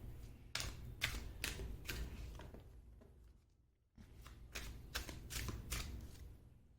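Tarot cards drawn and shuffled from a deck, a quick run of crisp, close papery flicks and taps in two bursts separated by a brief pause, with no talking.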